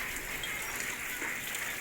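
Steady rain falls at a rural farm home, an even, hissing wash of drops on surfaces holding at a constant level with no voices.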